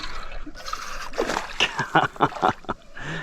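A redfish strikes a lure on a small Florida creek at Indian Pass, throwing a brief close splash and sloshing water with a few quick splatters, with faint voices over it.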